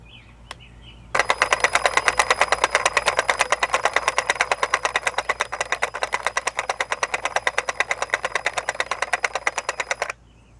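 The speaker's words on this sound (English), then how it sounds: "push down on the green button and it's going to wind the new line right onto the head." An EGO Powerhead string trimmer head spins up sharply to wind new line onto itself, a steady fast motorized whir with a rapid clicking ratchet pattern lasting about nine seconds before stopping abruptly.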